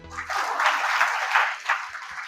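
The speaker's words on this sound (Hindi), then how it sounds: "तालियां।" Audience of mothers at a fun activity class applauding, a steady dense wash of many hands clapping at moderate loudness with no voices over it.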